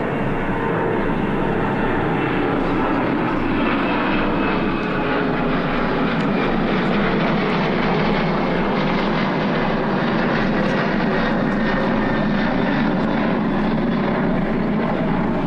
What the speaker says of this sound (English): I hope we'll finish before another plane